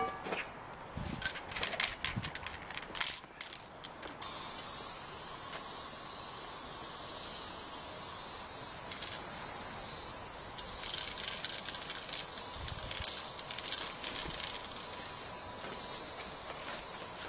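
A sprayer hisses steadily, a continuous high-pitched spray that runs for most of the stretch after a few sharp knocks and clatters near the start.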